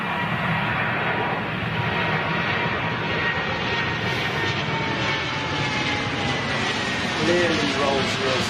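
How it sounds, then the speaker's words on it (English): Steady, loud roar of a passing British Airways Boeing 787 Dreamliner jet with Rolls-Royce engines near Heathrow, a continuous engine drone with a slowly shifting whine that holds for several seconds. "Clearly Rolls-Royce engines."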